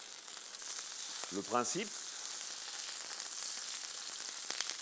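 Salmon fillet sears skin-side down in olive oil in a frying pan, giving a steady close sizzle and crackle throughout, with someone briefly speaking over it.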